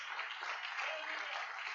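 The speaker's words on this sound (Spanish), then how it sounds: "Un aplauso a Jesús." A church congregation applauds in a steady, even wash of clapping that sounds somewhat distant and soft, with no break for the whole stretch.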